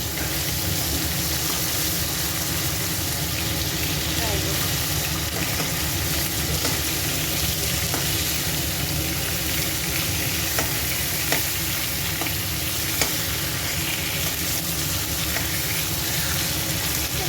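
Fish frying in a pan gives a dense, continuous sizzle as they are stirred, with a few soft utensil taps over the steady hiss and no voices.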